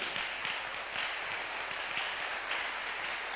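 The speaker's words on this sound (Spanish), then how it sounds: "podemos celebrarlos con un fuerte aplauso" A church congregation applauds steadily at a faint distance, a soft, continuous wash of clapping hands with no talking.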